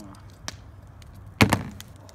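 A bottle of Young's Double Chocolate Stout being opened: a light click followed by a sharper pop and short hiss near the mic, with nothing else around it.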